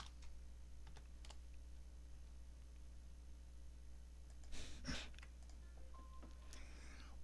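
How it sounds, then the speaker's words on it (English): Typing on a computer keyboard while entering a logic gate name in Quartus simulation software: faint, sparse key clicks against a steady low hum, with a slightly louder cluster of taps near the end. "Now I need the NOT. So I type in NOT, N-O-T."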